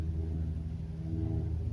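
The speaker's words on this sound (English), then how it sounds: "Here's an airplane for you to listen to, okay?" A light airplane from a nearby flight school passes overhead, giving a steady, fairly quiet low engine drone that holds evenly throughout with no talking.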